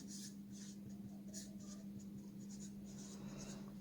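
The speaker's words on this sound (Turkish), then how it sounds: "Yazıyorum." Chalk or marker writing on a classroom board, a faint scratchy series of short strokes in a steady rhythm over a low hum, with no talk.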